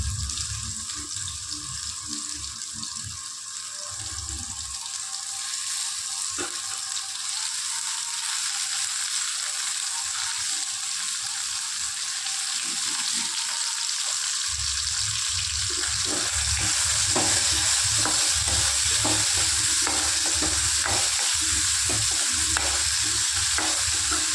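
Onions fried until soft with tomato added for chicken kuzhambu, a continuous hiss of frying oil with bursts of stirring that grow busier and louder in the second half, no voices.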